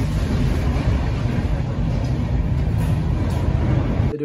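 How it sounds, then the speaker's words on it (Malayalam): The Tejas Express luxury train runs at speed in India, filling the carriage with a loud, continuous rumble and rushing noise that stops abruptly at the end. "ഞാനിപ്പോഴുള്ളത് ഇന്ത്യയിൽ തന്നെ one of the most luxurious train ആയിട്ടുള്ള തേജസ് എക്സ്പ്രസ്സിലാണ്"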